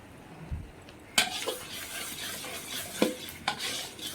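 A spoon stirs a spice paste of mustard, green chili and melon seeds in a pan, with sharp scraping clinks against the metal and a soft sizzle underneath, a few distinct strokes spaced apart.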